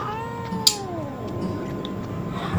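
A cat meows in the horror video game DreadOut 2, one drawn-out, sliding meow that is close and clear, followed by a few faint clicks over a quiet background.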